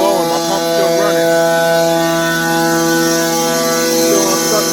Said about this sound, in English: My exhaust, I'm blowing, my pump's still running.